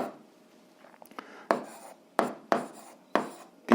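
Someone writes out a step of an eighth-grade algebra solution by hand, producing a series of sharp scratching strokes at an uneven rhythm, close and moderately quiet, with no talking.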